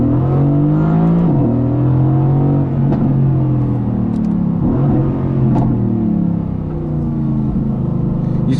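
A Mercedes-AMG GT S in race mode revs hard, engine pitch climbing and dropping through quick gear changes, with exhaust crackles and pops punctuating a loud, close, continuous roar and no talk.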